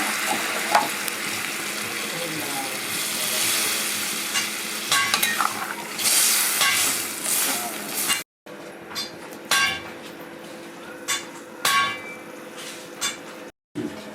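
Water is poured into a sizzling cucumber and shrimp curry, setting off a loud hiss and bubbling, followed by stirring with scrapes against the pot, all near and without talk.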